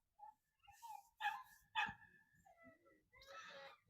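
Several dogs bark and yip in short bursts, fairly close, with a whimpering dog between barks.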